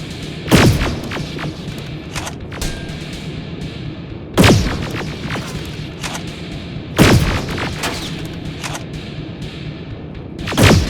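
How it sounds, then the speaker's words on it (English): Gunfire in the Terminator: Resistance video game: loud sharp blasts ring out at irregular intervals, about four heavy shots with short echoing tails over a low rumbling battle background. "Open fire!"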